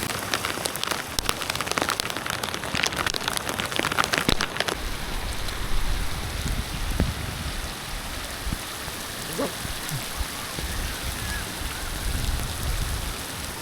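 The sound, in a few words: rain falling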